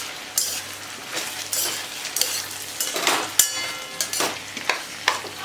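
Surati undhiyu vegetables with purple yam and muthiya dumplings fry in oil in a wok, giving a constant sizzle broken by repeated scraping and clinking strokes of a stirring spoon.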